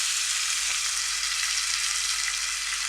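Onions and half a tomato fry in a pan, producing a dense, constant hiss of sizzling oil at a steady level with no breaks or talking.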